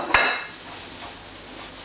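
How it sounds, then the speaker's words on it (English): Bubble and squeak, a fried potato and cabbage cake, slides back into a frying pan with a brief metallic scrape and clatter, followed by a low steady sizzle. "slide it back into the frying pan again,"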